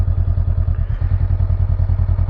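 A motorcycle engine started with the start button settles into a loud, close, steady rhythmic idle with even, rapid low pulses.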